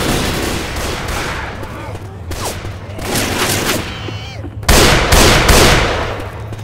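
Dense bursts of gunfire with heavy launcher blasts ring out loud and close in a Left 4 Dead 2 match, while a voice speaks over the shooting.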